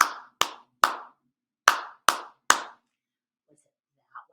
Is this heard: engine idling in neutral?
no